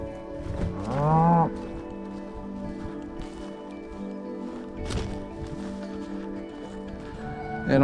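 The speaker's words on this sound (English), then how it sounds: "That's right, herd them cattle." Cattle being herded on a drought-stricken homestead let out a loud, close moo early on, followed by fainter lowing, shuffling hooves and scattered movement in the open air.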